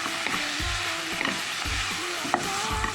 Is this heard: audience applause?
no